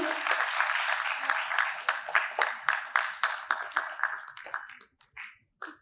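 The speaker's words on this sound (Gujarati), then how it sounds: "જોરદાર તાળીઓના નાદ સાથે આપણે વધાવી લઈએ" An audience at a foundation-day function claps loudly in a dense burst that thins into scattered individual claps and fades out.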